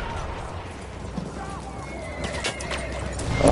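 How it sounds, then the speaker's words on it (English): A horse whinnies in the Battlefield 1 video game amid noisy battlefield ambience, with hoof clip-clops and a voice talking over the scene. "That fucking horse."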